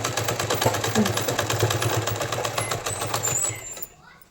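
An electric sewing machine runs a steady, rapid stitching rhythm along a salwar seam, fairly loud and close, then winds down and stops near the end, leaving faint quiet.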